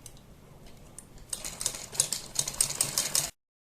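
A sewing machine stitching cloth onto buckram for a blouse neck design, starting as a faint hum, then breaking into a quick, close, rattling run of stitches for about two seconds before stopping abruptly.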